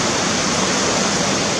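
A mountain stream rushes steadily through a valley, a dense, even roar of flowing water close by with no voices.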